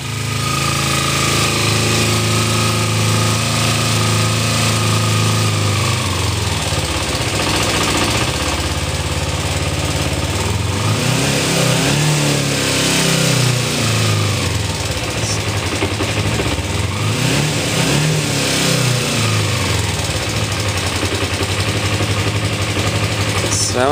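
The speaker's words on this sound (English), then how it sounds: "So anyway, I could rev it up more, but would let it warm up first." A 2007 Kawasaki Ninja 250 motorcycle engine runs loud and close, holding a steady idle before rising and falling through several revs, and a person talks over it.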